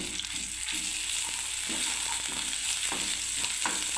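Mustard and poppy seeds fry in hot oil with cumin as cabbage is prepared, producing a steady close sizzle with soft crackles and occasional scraping stirs, with no talking.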